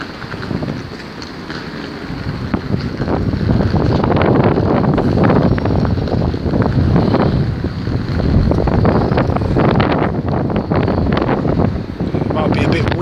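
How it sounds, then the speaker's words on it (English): Strong wind buffets the microphone outdoors at a demolition site, a constant loud low rumble with gusting swells throughout, alongside faint traces of other sounds. "so excuse the noise of the wind in the background."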